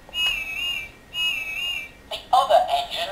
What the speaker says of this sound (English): It's got a really nice strange whistle sound.